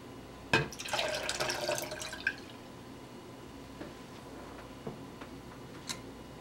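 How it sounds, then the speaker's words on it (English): Lemon juice poured into strained hibiscus for hibiscus lemonade, a short close splash and trickle followed by scattered faint drips and clinks in a quiet room. "we go in first with the lemon juice"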